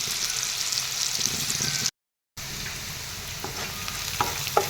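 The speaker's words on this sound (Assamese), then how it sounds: "মই পিয়াজখিনি ভাজি দিম" Onions fry in a pan with a steady, close sizzle that breaks off for a moment and then resumes, with faint stirring ticks and no voices.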